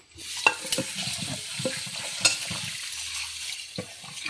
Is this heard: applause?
no